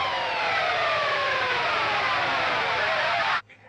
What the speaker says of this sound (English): It starts with a little pick scrape on a high-pitched setting here.